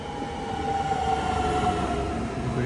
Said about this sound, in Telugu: నా ట్రైన్ వస్తుంది